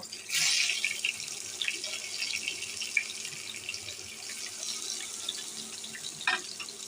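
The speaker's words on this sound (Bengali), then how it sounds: "আমি বেগুনটা সরিষার তেলে ভাজবো" Eggplant slices hit hot mustard oil with a loud hissing sizzle that then settles into steady, close frying crackle and spatter, with a few brief pops along the way.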